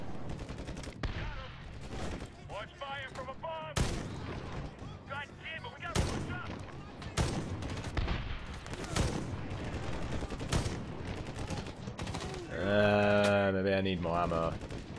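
Gunfire from the World War II shooter Medal of Honor, repeated sharp bursts and single shots in quick succession, loud and close, with a voice talking over it.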